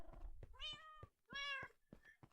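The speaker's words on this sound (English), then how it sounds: "Oh, kitties." Cats in the Minecraft video game meow several times in quick succession, clear and tonal, a couple of overlapping calls at low volume with no talk.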